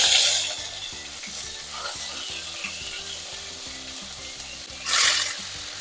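Onion paste frying in oil with whole nigella seeds for a Bengali rohu fish curry, a steady close sizzle with a stronger hiss burst near the end over a low repeating mechanical rattle.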